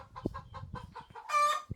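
Backyard chickens at a farmhouse cluck in quick rhythmic bursts close by, ending with a short crowing call and a final cluck.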